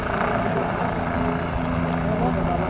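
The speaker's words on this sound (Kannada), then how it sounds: "ಹೆಲಿಕಾಪ್ಟರ್ ಇದು ಹೆಲಿಪ್ಯಾಡ್ ಇದು" A helicopter at a helipad near Kedarnath gives a loud, steady rotor and engine drone that runs throughout, with people talking over it.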